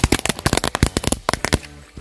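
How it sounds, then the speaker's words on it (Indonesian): A Wonderful Cake 49-shot firework cake fires in a fast, close run of loud cracking bursts, each shot a sharp bang in quick succession, the volley thinning and fading into a crackling tail near the end. "yang selanjutnya kita nyalakan mercon Wonderful Cake 49 shoot"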